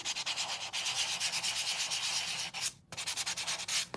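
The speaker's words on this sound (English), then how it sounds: "And this is again with my really fine sandpaper." Very fine sandpaper rubs back and forth on a painted surface by hand, giving a close, steady rhythmic scratching with quick strokes, one brief pause near the end, then more strokes; no speech.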